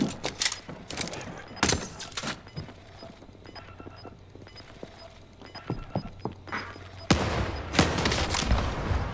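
Double-barrel shotgun blasts in a multiplayer shooter, a few sharp separate shots with scattered quieter clatter between them and a louder burst of firing near the end.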